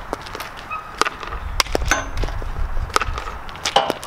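Hockey pucks are shot with a stick at an outdoor rink, giving a series of sharp wooden cracks and thwacks spaced irregularly, with scraping and light background noise between hits.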